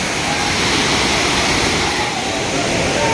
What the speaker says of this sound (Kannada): ಮತ್ತು ನೋಡಿ ಫಾಲ್ಸ್ ಇದೆ ಹೆಂಗಿದೆ